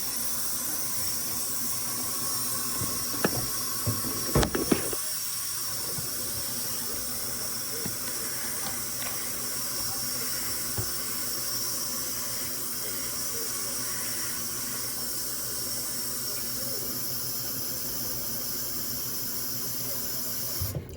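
Tap water running steadily into a sink while aquarium filters are rinsed during a water change, a constant close hiss with a few clunks and splashes near the start, going on for about twenty seconds without talk.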